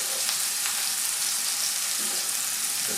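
Rice fries in a hot pan with a steady, close, even sizzle that holds at one level throughout, with no voices over it.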